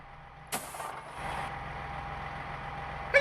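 Class 158 diesel train engine in NIMBY Rails simulation game, a broadband burst at startup followed by a steady low engine rumble and hum that continues alone at moderate level.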